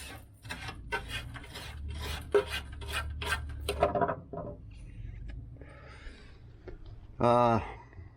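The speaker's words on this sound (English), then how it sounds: "Just been sanding and hand sanding" Rhythmic rasping strokes of hand sanding metal during rust repair on a 1969 Chevy van, repeated back and forth up close, followed by a few scraping and knocking sounds and a short burst of noise.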